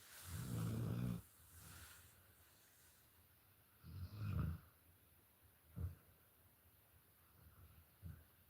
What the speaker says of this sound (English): Y'all hear my bulldogs snoring up a storm.